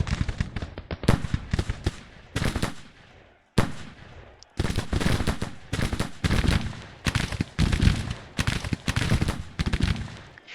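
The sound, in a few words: artillery cannon fire in Grand Tactician: The Civil War video game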